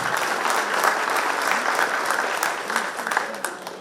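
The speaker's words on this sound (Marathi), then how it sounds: "शेखरसाठी जरा जोरदार टाळ्या." An audience claps loudly and steadily for Shekhar at a BJP felicitation event in Saswad, with dense, sustained applause throughout and voices murmuring underneath.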